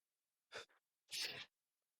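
A single close sneeze: a short sharp intake followed by a loud, breathy burst, then silence.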